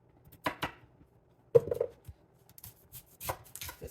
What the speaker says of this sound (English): Cut it into cubes.